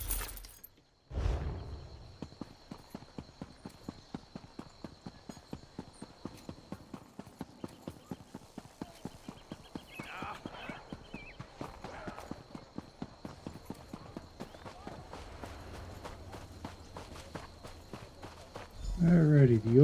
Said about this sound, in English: the old horse stables